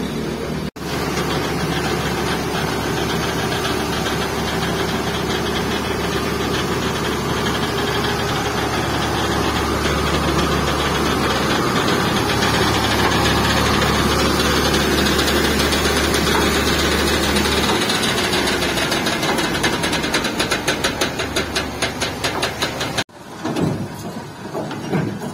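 A tractor trolley engine idles steadily in a loud, continuous low rumble while soil is unloaded, with the sound cutting off abruptly near the end.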